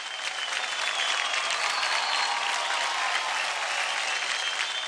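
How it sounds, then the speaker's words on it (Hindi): A studio audience at a televised dance competition breaks into loud, dense applause, a continuous, even roar of many hands clapping that holds steady throughout. "जोरदार तालियां फौड़सन के लिए।"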